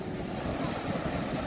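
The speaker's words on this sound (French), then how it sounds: "Regarde la force des vagues qui viennent s'échouer là sur les roches noires" Sea waves breaking on the black volcanic rocks of Saint-Gilles beach, Réunion, a steady rushing surge with wind buffeting the microphone, no voices.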